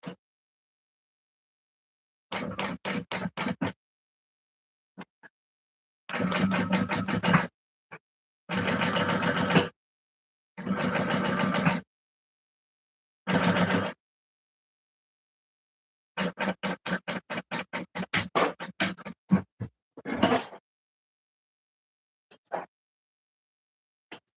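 A sewing machine stitches a sling pouch in several loud close bursts of rapid rhythmic needle chatter, separated by silent pauses, with a few quick short runs and taps near the end and no talking.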